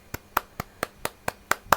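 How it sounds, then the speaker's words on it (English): A small group at an online book discussion meeting claps in applause, a sparse, fairly quiet run of about eight distinct claps at an even pace. "let's give a round of applause for everyone who is here"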